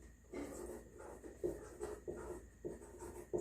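Chalk or marker writing on a board during a maths lesson, soft rhythmic scratching strokes in short bursts, faint and close in a quiet room with no talk.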